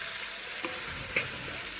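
Small shallots fry in a pan with a little salt for tapioca biryani, a steady soft sizzle with a couple of quick scraping stirs.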